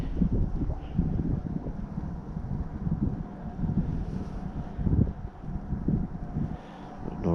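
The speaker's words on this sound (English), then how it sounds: "It's so windy though." Strong wind gusts across open prairie grass during an evening deer hunt in Minnesota, a steady rushing roar with buffeting microphone rumble that swells and dips. No voices are heard.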